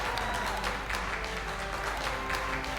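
A crowd claps steadily and continuously in the video game Star Trek: Resurgence, a dense wash of applause with no pauses.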